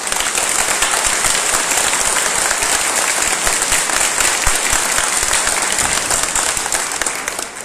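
Dense, sustained applause from an audience at a Hindi-language religious sermon gathering in Ludhiana, loud and continuous throughout with no pauses, the claps blending into an even roar.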